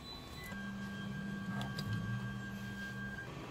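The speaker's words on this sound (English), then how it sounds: "Right now, let's auto-home everything." A Creality Ender 3 3D printer auto-homing its axes, a faint steady stepper-motor hum and whine lasting a few seconds with quiet clicks, no voices.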